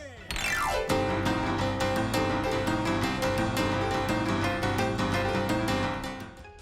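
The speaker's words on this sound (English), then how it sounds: "It is a style of blues piano playing characterized by an up-tempo rhythm" Up-tempo boogie-woogie blues piano with a steady, rhythmic run of repeated notes over a sustained bass, moderately quiet and played without any talking.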